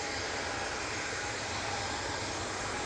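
An Airbus A321neo departs Manchester Airport for Dalaman. A steady, distant jet engine roar holds at an even level with no talk.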